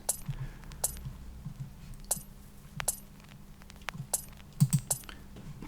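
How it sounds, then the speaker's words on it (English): Sharp, metallic scissor snips used as percussion in an electronic music production, scattered irregular clicks over a quiet low background hum. "just the scissor noise there"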